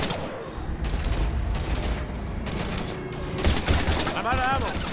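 Video game gunfire from Mass Effect 3 rattles in dense, sustained bursts against husk enemies, loud and close, mixed with in-game shouting and a mechanical whine near the end.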